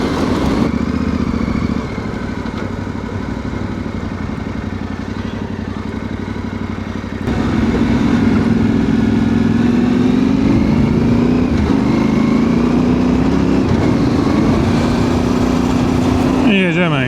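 A Yamaha Tenere Extreme motorcycle rides off on a trail route in Poland, its engine droning steady and loud close to the rider, rising in pitch after a brief shift.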